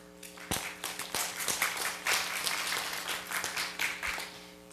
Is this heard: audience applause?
yes